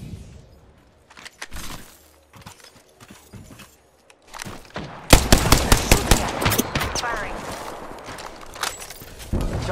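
Gunfire in a shooter video game: sparse shots at first, then dense, rapid automatic bursts crackling loudly over the last half.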